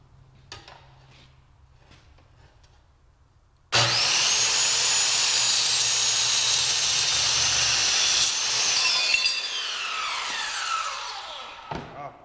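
A power saw cutting through eighth-inch steel angle iron, starting abruptly into a loud, sustained high-pitched grinding whine for about five seconds, then dropping in pitch as the blade spins down, with soft handling noises before.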